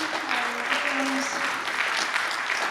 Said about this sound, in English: let's give one more round of applause to